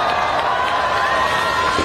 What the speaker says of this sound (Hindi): तालियां रुकनी नहीं चाहिए साथियों